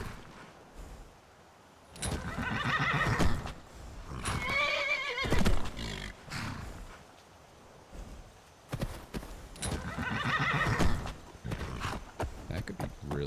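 A horse in the Skyrim video game whinnies several times in shrill, wavering bursts, mixed with clopping hooves and thumping movement, fairly close and loud with short gaps between calls.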